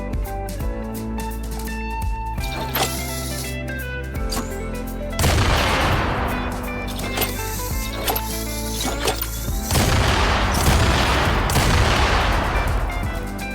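Fortnite Drill Charge item using the Cluster Clinger sound effects, with several loud percussive bursts and booms layered over game music, each blast crackling and decaying before the next.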